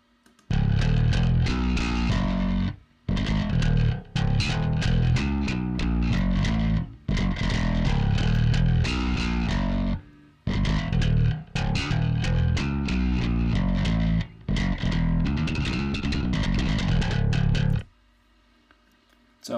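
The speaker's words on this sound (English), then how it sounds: "he sent it with a distortion pedal" Thick, distorted bass guitar playing tight, punchy riffs with brief gaps between phrases, loud and close, ending in a short quiet tail.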